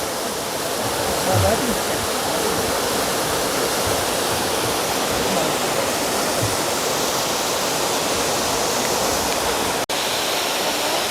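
Yongyeon Falls on Juwangsan mountain thunders steadily, a dense, unbroken roar of falling water close by that dominates throughout, with faint voices barely audible beneath it.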